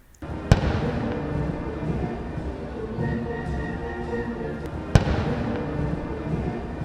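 Two sharp booming cannon shots of a 21-gun salute at an Independence Day celebration in Congo, several seconds apart, ring out over a steady crowd-and-ambience wash, each followed by a lingering rumble.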